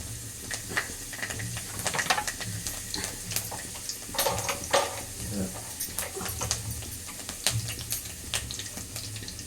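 Fennel seeds and a sprig of curry leaves hit hot oil, giving a busy crackling sizzle with scattered sharp pops and stirring scrapes throughout, close and fairly loud, with no talking.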